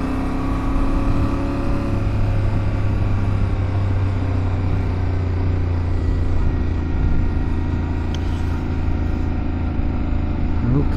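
A 2023 Yamaha Ténéré 700 motorcycle pulls away in second gear, its engine a steady, close, low drone with a rough rumble that holds at an even level for the whole stretch.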